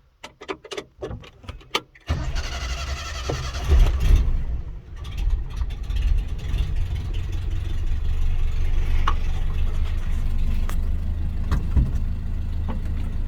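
A Datsun starts with a few sputtering cranks and catches, then idles and moves off under low rumbling engine power, fairly close and steady with mild revving and no talking.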